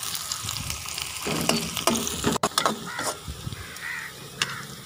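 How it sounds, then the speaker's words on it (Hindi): Chopped capsicum fries lightly in a pan for chicken spaghetti, giving a close, bright sizzle with scraping stirs and a few sharp clatters near the middle. "इसके बाद शिमला मिर्च। बहुत ज़्यादा इसको फ्राई नहीं करना।"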